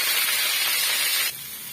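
Curry leaves sautéing in a pan for a curry leaf pickle give a loud, bright, hissing sizzle that drops abruptly to a softer, steady hiss.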